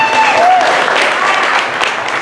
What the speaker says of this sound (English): Everybody give applause for Don.